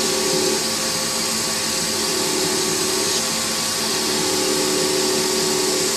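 A buffing and polishing machine working a piece through successive abrasive grades, droning with a loud steady whine and hum that runs unbroken from start to finish.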